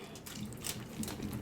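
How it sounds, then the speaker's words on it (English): Water poured over a person sitting in a tub, a close, continuous splashing and trickling with uneven bursts of spatter. "Aries is like pouring water on him"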